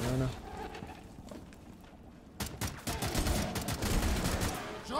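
Gunfire from the video game Rainbow Six Extraction comes in sharp bursts of rapid shots, starting after a quieter stretch, mixed with game sounds while a player talks over it.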